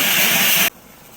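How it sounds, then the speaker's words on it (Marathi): A loud burst of hissing steam from a pressure cooker whistle while cooking bajra khichdi lasts under a second, then cuts off abruptly to near quiet. "इथे बघा आता कुकरचे चार शिट्ट्या झालेले आहेत"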